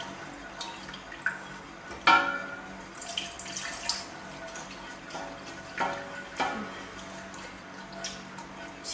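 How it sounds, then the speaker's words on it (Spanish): White vinegar is poured slowly into a low cooking pot, making a soft, uneven trickle and splash with a few louder sloshes that stand apart from the quiet background. "Le voy a añadir poco a poco el vaso de vinagre blanco porque"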